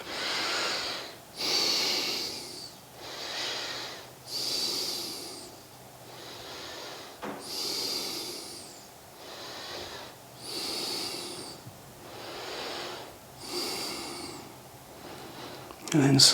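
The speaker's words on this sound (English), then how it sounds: "Breathing as you go." Slow, steady breathing during a seated yoga twist: about ten close, breathy inhales and exhales, each roughly a second long, in an even rhythm with no other sound over them.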